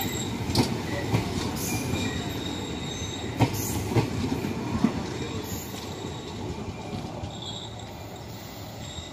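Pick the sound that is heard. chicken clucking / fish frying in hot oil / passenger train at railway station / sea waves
passenger train at railway station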